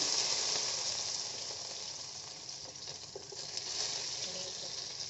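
Mustard seeds and small onions fry in hot oil, a dense, continuous sizzle with faint crackling that stays loud and close throughout, with no talking.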